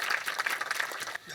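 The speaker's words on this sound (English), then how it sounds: "So please, the applause goes to them." Audience applause at a memorial homage ceremony for Réunion Island, a short burst of dense clapping at moderate level that drops off near the end.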